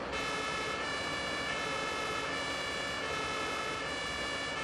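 A fire engine siren from the Notruf 112 video game wails steadily and loudly, a continuous tone that stays level throughout. No speech.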